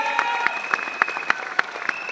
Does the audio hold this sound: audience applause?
yes